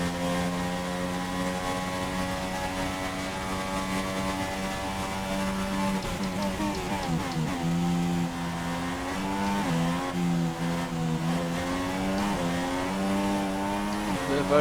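Formula 1 race car engine in the F1 2017 video game at the Russia Grand Prix, a loud continuous high-pitched whine that rises and falls through gear changes as it accelerates with oversteer, without speech.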